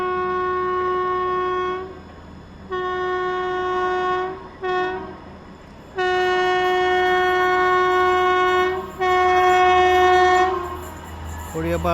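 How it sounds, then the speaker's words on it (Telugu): The Tejas Rajdhani Express sounds its horn in long, loud, sustained blasts broken by brief gaps as it overtakes, with a steady rumble of rail noise underneath. "ట్రైన్ తేజస్ రాజధాని ఎక్స్ప్రెస్ అయితే ఓటీ కొడుతుంది."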